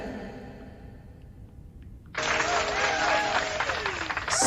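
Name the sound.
neighbors applauding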